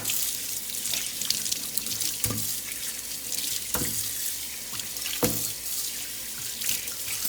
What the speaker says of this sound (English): I'm washing them up real good.